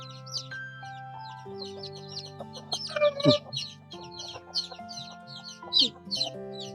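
Chicks and chickens cluck and peep close by during vaccination, with many short repeated calls scattered throughout and a louder squawk near the middle.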